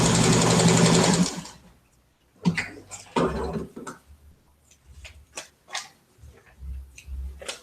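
A sewing machine pieces quilt blocks, running in a fast, loud burst at the start, then falls to scattered soft clicks and handling noises that come closer and quieter.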